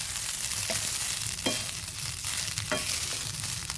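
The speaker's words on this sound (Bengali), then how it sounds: "এক এক করে সব ভাতগুলো মিশিয়ে নিচ্ছি" Cooked rice being mixed in a hot pan for lemon rice, a continuous oily sizzle with a few scraping strokes of the spatula, up close.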